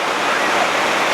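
Rainwater streams steadily through a leaking, worn corrugated zinc roof during heavy rain, a dense continuous splashing hiss that stays loud and close throughout, with no talk.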